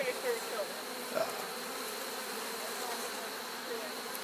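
Honeybees drone steadily at an open beehive, a continuous close buzz with faint outdoor noise beneath it.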